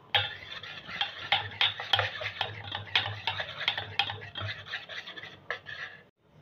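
Boondi batter being mixed with white oil, producing quick rhythmic scratchy strokes and light clinks of a utensil against the container, close and fairly brisk, stopping briefly near the end.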